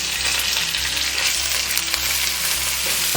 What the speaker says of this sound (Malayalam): ഇനി ഇത് നമുക്കൊന്ന് വഴറ്റിയെടുക്കാം